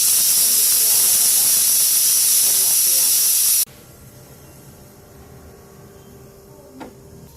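Pressure cooker steaming over green gram, giving a loud, steady hiss that stops abruptly halfway through, leaving a quiet room with a faint knock.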